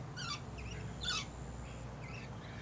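Birds at a backyard feeding spot give short, sharp squawks and chirps in a few scattered bursts, moderately close, over a steady low background hum.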